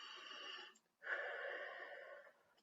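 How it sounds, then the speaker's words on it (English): Two long, raspy breaths heard up close, one short inhale-exhale followed by a longer, airy breath after a brief pause, with no talking. "Take some deep breaths."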